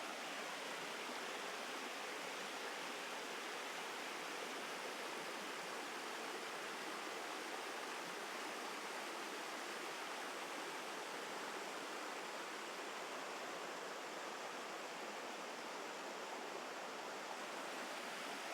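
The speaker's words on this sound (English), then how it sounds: "I'm going to stay quiet so you guys can hear the river for a sec." A river flows through woodland with a steady, dense rush of water that holds at an even, moderate level throughout, with no voices.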